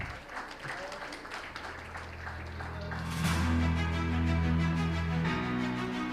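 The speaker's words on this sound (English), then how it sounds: "Let's make a big round of applause, ladies and gentlemen." Applause from an audience at a stock exchange listing ceremony, building into a loud, sustained wash of clapping midway while music with steady low tones plays underneath.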